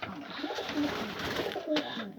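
Pigeons coo close by outdoors, with a couple of soft, low, rolling calls amid light background noise.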